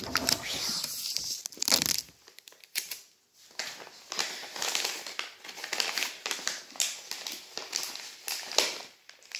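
Paper crinkling and tearing while gifts are wrapped, with irregular bursts of crackly rustling close to the mic, a brief quiet gap near two seconds, then steady crumpling continuing.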